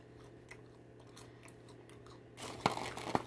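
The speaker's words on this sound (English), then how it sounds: "Now I'm going to taste just the popcorn." Popcorn from a Cap'n Crunch berries popcorn mix is bitten and chewed up close, with soft mouth noises giving way to a few sharper, louder crunches near the end.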